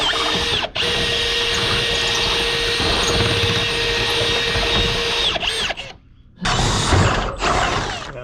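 A low-geared power drill boring a 1/2 inch hole for a guide cable grinds loudly and steadily under heavy load, cuts out briefly twice, then roars back in two short bursts.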